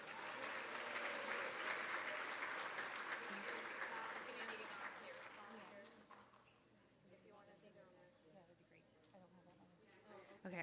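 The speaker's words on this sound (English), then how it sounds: "If we could have a round of applause for our administrators" Applause from a school board meeting audience honoring school administrators at a student recognition ceremony, a dense clapping crowd that fades out midway, leaving quieter room noise and scattered sounds with voices faintly underneath.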